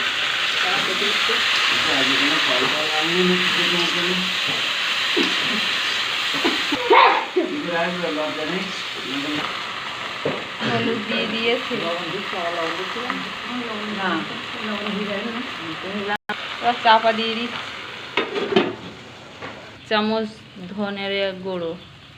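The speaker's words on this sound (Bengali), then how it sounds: "এবার কচুর ফুল দিচ্ছে" Taro flowers tossed into hot oil and stirred in a village-style kitchen, giving a loud, steady sizzle that runs through the whole stretch while voices talk over it.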